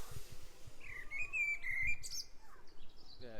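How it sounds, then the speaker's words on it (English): A male blackbird's clear, fluting song rises and falls in a short whistled phrase, moderately near, over faint background rustle and low thumps. "That's a male blackbird."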